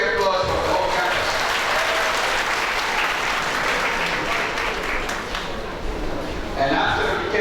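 A university campus audience at Dhaka International University bursts into loud, dense applause that holds steady for several seconds, a full room of clapping hands with faint crowd murmur mixed in.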